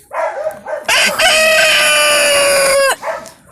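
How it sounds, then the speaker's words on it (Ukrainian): Chicken in a henhouse on a frosty homestead, a loud drawn-out crow-like call with a few short clucks before and after, close and alone. "У хатинку, певно, курочка несеться"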